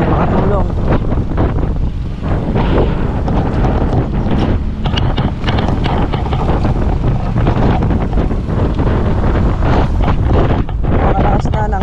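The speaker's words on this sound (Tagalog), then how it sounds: "Nakalakas na ng hangin." Strong wind ahead of a typhoon buffets the microphone in loud, continuous gusts with a steady roar, and a voice speaks faintly beneath it.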